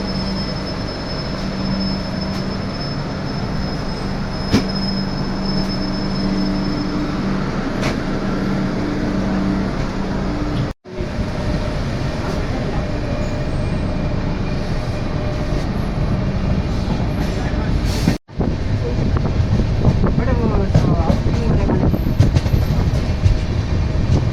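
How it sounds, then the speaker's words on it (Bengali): The Puri Howrah Shatabdi Express rolls out of Bhadrak station, a steady loud rumble of wheels on rails heard from inside an AC chair car, with faint squeals and clanks building toward the end. "আমার ট্রেন ভদ্রক ছেড়ে বেরোচ্ছে।"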